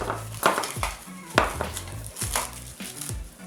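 A spoon mixes raisins into thick oatmeal cookie dough in a bowl, giving a steady run of close scraping strokes and dull knocks against the bowl.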